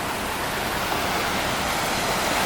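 A waterfall tumbling over artificial rock work at the St. Louis Zoo gives a steady, dense hiss of falling water, even and continuous throughout with no voices.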